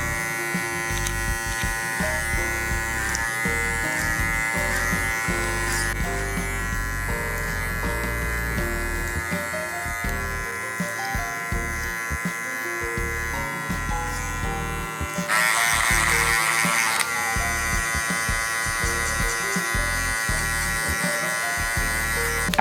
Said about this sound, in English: After you clip over comb